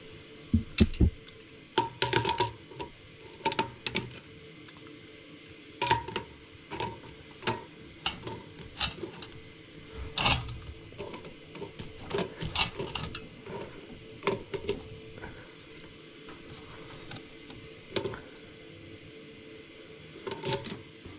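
Well pressure valve being threaded by hand back onto its well fitting, giving soft irregular metallic clicks and scraping turns in short bursts, close up, with no talking.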